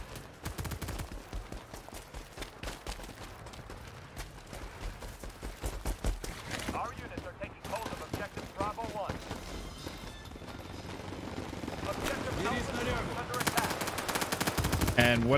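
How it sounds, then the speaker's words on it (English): Light machine gun fire in the video game World War 3, rapid sustained bursts running through the whole stretch, loud and dense with short breaks, with a player's voice faintly under the shooting. "I'm using an LMG right now."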